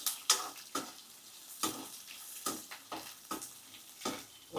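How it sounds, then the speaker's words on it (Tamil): Green chilli and ginger sauté in a pan for peanut chutney, a soft sizzle broken by repeated sharp scraping strokes of a spatula at an uneven rhythm, close and without talk. "இப்போ பச்சை மிளகா இஞ்சி ஆட் பண்ணிட்டோம். இப்போ சேர்த்து வதக்கிடுங்க"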